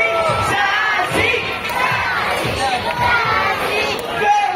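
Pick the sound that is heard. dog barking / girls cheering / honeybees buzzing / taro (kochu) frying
girls cheering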